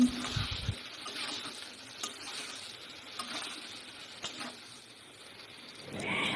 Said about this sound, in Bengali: যে তেল রয়েছে এই তেলের মধ্যে দিয়ে দেবো বেগুনগুলো।